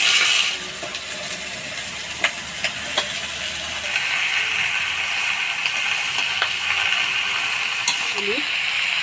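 Chopped bottle gourd fries in a pan with whole cumin, bay leaf and ginger paste for a shrimp curry, giving a steady loud sizzle with occasional sharp clinks of stirring.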